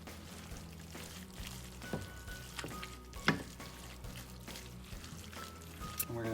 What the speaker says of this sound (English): We'll go ahead and give that a stir.